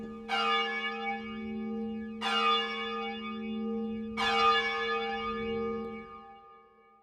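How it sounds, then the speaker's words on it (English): A bell rings three times at slow, even intervals, each strike ringing out and slowly decaying with a sustained resonant tone. "his finger found itself Ringing the doorbell."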